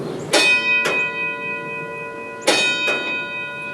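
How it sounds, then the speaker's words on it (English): An old school bell struck by a hammer rings twice in quick succession, pauses, then rings twice again, with bright metallic tones lingering between strikes. "there's an old school bell with a hammer on it"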